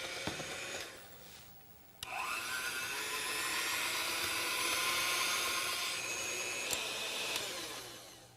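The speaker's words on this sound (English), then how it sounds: "And then I'm going to let Amber go ahead and mix that together with our mixer" An electric mixer creams brown and white sugar for oatmeal raisin cookies, starting briefly, pausing, then whirring loudly and steadily close by with a scraping, gritty edge, and no one speaking.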